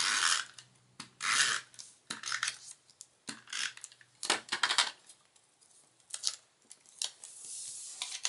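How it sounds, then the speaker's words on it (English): A strip of cardstock paper for a handmade card is torn by hand, close up, in a series of short rasping, ripping bursts with brief pauses between them and no talking. "I think I'll tear that one in half"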